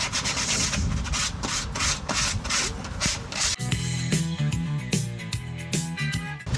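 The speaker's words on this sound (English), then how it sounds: "I think I'm just going to rub down a little bit in here as well." Someone rubs down a surface by the wheel area of a Volvo S60 with quick, close, repeated scrubbing strokes that become a rougher, more ringing rasp partway through, with no talk.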